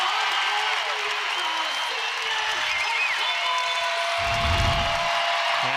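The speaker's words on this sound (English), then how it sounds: "the crowd getting onto its feet for McKenna Smith's final floor performance in the Huntsman Center" A packed crowd at a college gymnastics meet in the Huntsman Center roars and applauds continuously as the audience rises for a final floor routine, the cheering steady and loud throughout.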